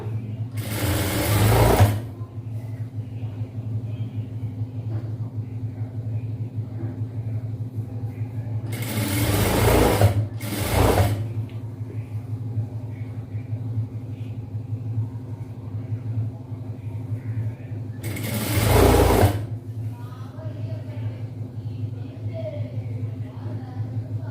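A sewing machine stitches chudidhar fabric in three short loud bursts of rapid whirring, separated by long pauses while someone talks over a steady low mains hum.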